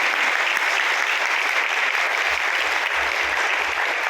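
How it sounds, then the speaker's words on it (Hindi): An audience at a network marketing seminar applauds, a dense, steady clapping that fills the room evenly from start to end with no talk heard over it. "तो इन लोगों के लिए दोस्तों स्पेशली आज आप और हम ताली बजा के"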